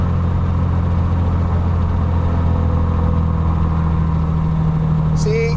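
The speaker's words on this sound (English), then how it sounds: "Now we will reduce the RPM again." A piston engine under test, having its ignition system checked as its RPM is brought down, drones steadily at low pitch, loud and close throughout, with a brief higher whine near the end.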